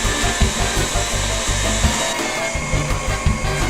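An electric mixer whirs loudly and steadily as it whips a mixture to stiff peaks for Hatch tres leches cupcakes, with a faint rhythmic beat from the beaters against the bowl.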